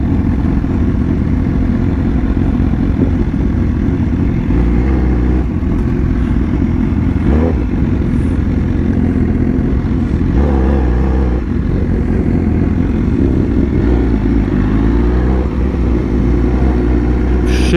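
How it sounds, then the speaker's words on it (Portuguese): Several motorcycles, among them a BMW S1000R, ride slowly down a winding mountain road on the Serra de Corupá, their engines droning close and steady with occasional revving and clatter. "Cheio das motocas hoje."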